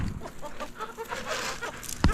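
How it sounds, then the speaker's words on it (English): A chicken clucks close by in a string of short, throaty notes, ending with a sharper squawk. "She's one of my more experienced chickens."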